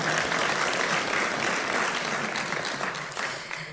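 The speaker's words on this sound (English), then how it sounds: "So a round of applause to them for their wonderful performance." Sustained applause from an audience at an evening event following a musical performance, a dense, even wash of clapping that fills the whole stretch and fades slightly toward the end.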